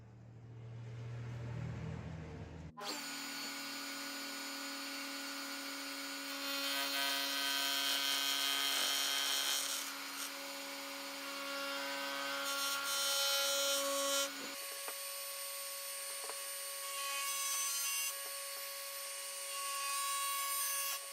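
A router fitted with a double-bearing bit machines the wooden headstock of a Harley Benton Stratocaster-style kit guitar, giving a loud, sustained high-pitched whine with grinding cutting noise that shifts in pitch partway through. It follows a brief quieter lead-in and has no speech over it.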